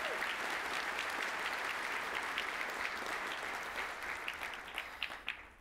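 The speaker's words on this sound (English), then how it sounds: "I would like to give this team a massive round of applause." An audience at a tech conference keynote applauds a team, with sustained clapping from many hands that stays full before thinning into scattered claps at the close.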